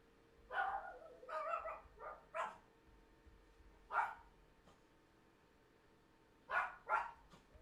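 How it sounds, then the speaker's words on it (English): Dogs bark in the Hay Day farming game, several scattered woofs and yips in loose bursts, some in quick pairs, with quiet gaps between them. "There goes the dogs."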